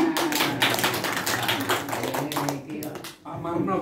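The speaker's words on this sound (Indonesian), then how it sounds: "Tepuk tangan." Audience clapping at a year-end gathering of a former Telkom Solo staff social group, a steady patter of hands filling the room with voices talking over it, dipping briefly near the end before resuming.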